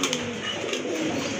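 Afsan grizzle pigeons in a loft coo in low, soft rolling calls over a steady hum of background noise.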